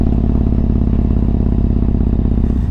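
A Yamaha MT-01 motorcycle engine rumbles steadily and loudly throughout while being ridden, with an even, pulsing throb close up.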